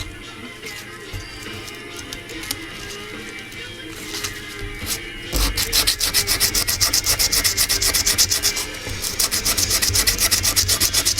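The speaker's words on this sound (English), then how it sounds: "You can use a rougher grit sandpaper, but this is all I've got at the moment." Sandpaper rubs over a scrimshaw surface, first as quieter scratching, then as loud, fast, rhythmic back-and-forth strokes close up.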